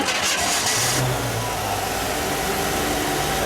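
A 1958 Chevrolet Impala coupe's 283 V8 fires up with a loud cranking burst and then settles into a steady, smooth, close idle rumble, with no one talking.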